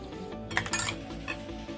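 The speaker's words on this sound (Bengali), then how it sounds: "এবার আমি সবগুলো দিয়ে একসাথে খুব ভালো করে এটাকে মিশিয়ে নেব" Spice paste and sour yogurt for chicken chap being stirred together in a bowl, giving a few close, quiet clinks and scrapes of utensil against the dish over a steady low kitchen hum, with no talking.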